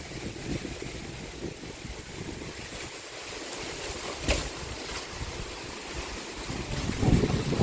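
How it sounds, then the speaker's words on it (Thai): Wind blows steadily across an open field, buffeting the microphone with a continuous rushing noise that swells and gusts near the end, with no voices. "ลมพัดชนมาตะกลางทุ่งเลยค่ะ"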